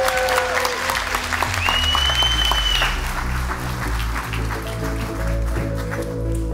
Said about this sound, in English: let's give all of our award recipients one more round of applause